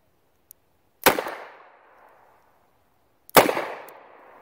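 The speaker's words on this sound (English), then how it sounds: "And then you can throw her up there and start shooting." A Smith & Wesson .38 revolver fires two loud, sharp shots of +P ammunition about two seconds apart. Each crack rings out into a fading echo outdoors, and a faint click comes just before each shot.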